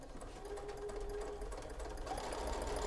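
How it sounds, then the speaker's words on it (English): A sewing machine runs steadily, stitching a quarter-inch seam through quilt block fabric pieces, a close, continuous mechanical whir with a faint rhythmic needle chatter throughout and no talk. "And sew my 1/4 inch seam."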